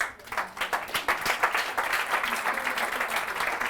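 Audience at an education talk on executive functions applauding for a group on stage, steady crowd clapping with distinct hand claps at moderate level.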